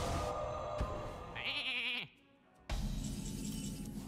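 A cartoonish sheep bleats once in the Hearthstone card game (Kobolds and Catacombs), a wavering cry over the game's steady background sound that cuts out briefly before the ambience returns.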